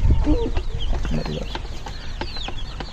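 Chickens clucking and murmuring close by while perched on a wooden roost, a steady scatter of short calls with some higher chirps over low background noise.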